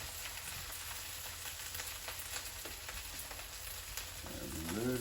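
Onion frying in a pan for fried rice makes a soft, continuous sizzle with scattered crackles, quiet and steady, while a voice hums faintly near the end.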